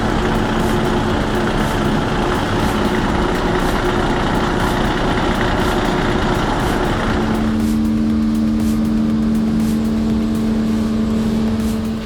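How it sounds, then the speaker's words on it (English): A 1972 Kenworth logging truck with a Big Cam Cummins engine and Spicer gearbox rumbles at a steady low idle in the woods, the engine tone dropping and settling about midway through. "There's something special about seeing a 1972 Kenworth still working the woods"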